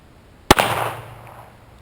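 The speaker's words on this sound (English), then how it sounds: "shooting Federal target ammunition using a Speed Bees loader, 15 yards, first shot out here in Rider's Range" One sharp, loud crack comes from an S&W Model 317 .22 kit gun revolver firing Federal target ammunition at 15 yards on an outdoor range, followed by a ringing decay that fades over about a second.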